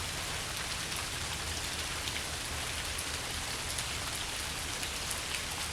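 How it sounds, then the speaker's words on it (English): Steady rain pours down in central Alabama, a dense even hiss of drops on surfaces close by, with no voices or other sounds over it. "That rain is so relaxing."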